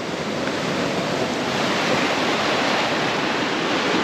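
Sea waves surge and wash up at Muttom Beach near Kovalam, Kerala, a steady, loud, continuous roar of surf with wind noise and no talking.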